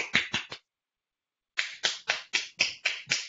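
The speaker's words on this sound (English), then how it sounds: "Wow, that's virtual clapping." Virtual clapping after a lecture: a short burst of four crisp, close claps, a pause of about a second, then a steady run of seven evenly spaced claps.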